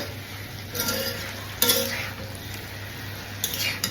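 A lid comes off a pot of simmering vegetable curry, with a few sharp metallic clinks and clatters standing out against a soft, steady kitchen background.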